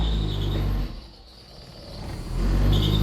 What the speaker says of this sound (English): let's try to rev it a bit